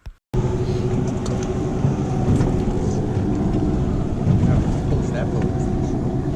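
A lobster boat's engine drones steadily at close range, a loud constant rumble with water noise, heard throughout.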